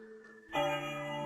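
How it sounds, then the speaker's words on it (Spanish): The bells of St. Peter's Basilica ring out for a newly elected pope, a bright bell tone joining a faint hum and then sustaining with rich, lingering overtones, moderately loud and with no voices. "se repican las campanas de la basílica"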